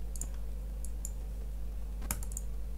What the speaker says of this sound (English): So now I will type everything from the scratch.